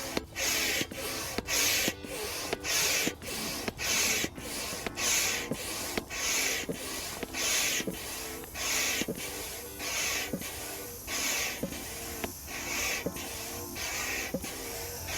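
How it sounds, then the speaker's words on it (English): A dual-action hand pump inflating a TF Gear Airflo air bivvy, pumping on both the up and down strokes: a steady, rhythmic run of loud, close airy whooshes, about two strokes per second, continuing evenly with no voices. "The good thing about that pump as well is it's dual action, so it actually pumps on the way down and on the way up."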